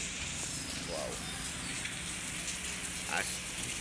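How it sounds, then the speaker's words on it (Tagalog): Steady, dense rainfall hisses across the whole clip, a continuous wash of drops on a surface with a faint chirp or two rising above it. "Grabe ulan."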